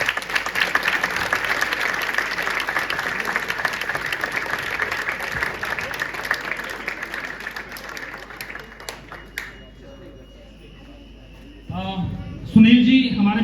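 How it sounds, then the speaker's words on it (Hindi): Loud, sustained applause from an audience at a stage event, honoring a father, steady for about nine seconds before thinning out, with a voice speaking near the end. "तो अपने फादर के लिए एक बार जोरदार तालियां।"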